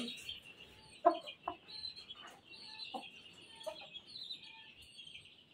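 Chickens cluck in short bursts over a steady background of chirping birds, with one louder cluck standing out near the start.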